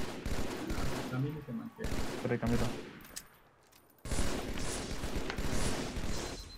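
Gunfire from the video game Halo 2, bursts of rapid shots coming in clustered volleys with a short lull midway, mixed with casual Spanish talk between players.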